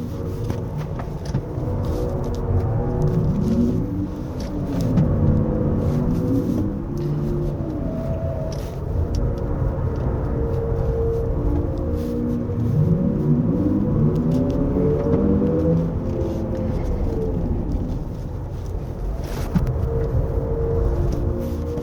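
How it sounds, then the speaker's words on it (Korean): Hyundai IONIQ 5 2WD single-motor electric car with 19-inch wheels playing its synthetic active drive sound on a winding mountain road, tones sweeping up and down with acceleration over steady road rumble. "이 지금 액티브 사운드의 소리 특성은, 네, 아이오닉 6의 것과 사운드 트랙이 동일하게 보입니다"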